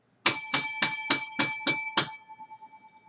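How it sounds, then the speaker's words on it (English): A bright bell rings seven times in quick, even succession, each strike close and clear. The last tone hangs and fades into silence. "First, 7 lucky bells."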